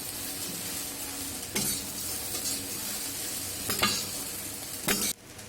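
Sabudana khichdi with crushed peanuts being stirred in a pan, a steady sizzle with a spoon scraping and clinking against the metal at intervals, ending abruptly, no voices.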